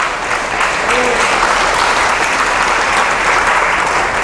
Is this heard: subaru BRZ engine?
no